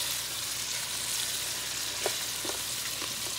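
Meat frying in a pot for a Tunisian potato stew, a steady close hissing sizzle throughout with a few faint clinks of stirring toward the end.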